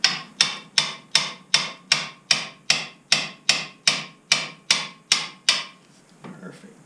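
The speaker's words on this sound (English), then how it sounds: "Use a hammer." A hammer pounds a front suspension part on a 5.7 Vortec-swapped first-generation S10, thirteen evenly spaced, ringing metallic strikes close by, then a short stretch of quieter shuffling.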